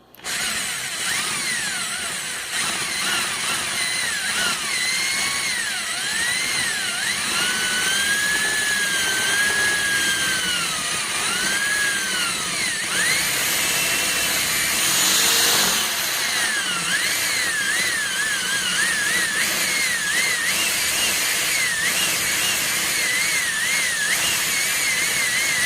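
A power drill with a small bit whines continuously while drilling out rivets on the door panel of a 1990 Volvo 740 sedan, its pitch wavering up and down as the bit bites and slips, loud and close with no talking.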